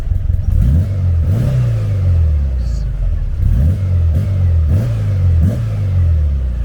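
A VW Beetle engine revving up from a raised idle, loud and close, with repeated rising throttle blips over a steady rumble.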